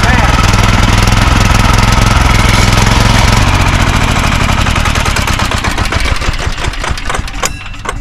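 A homemade racing lawn mower's engine runs loud and close while being driven, a rough, knocking drone that wavers and gradually thins toward the end.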